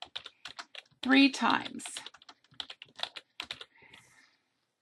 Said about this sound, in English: I'm just going to type in March